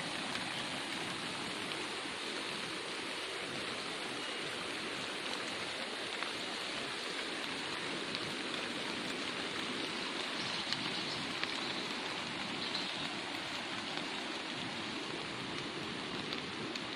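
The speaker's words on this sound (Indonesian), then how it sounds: "Waduh, hujan" Steady rain pours down outdoors on a cloudy mid-afternoon, a dense continuous hiss of drops spread evenly across the whole stretch with no talking over it.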